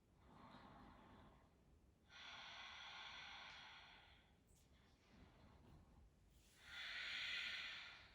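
Deep Ujjayi breathing during a yoga bridge pose: slow, rushing breath sounds in three long waves, each inhale or exhale lasting a couple of seconds, close and fairly quiet with no talk.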